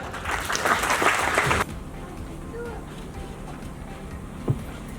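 An audience at an academic excellence awards ceremony bursts into loud applause to welcome a company founder and businessman, then the clapping cuts off abruptly into a quiet, murmuring hall with one faint knock.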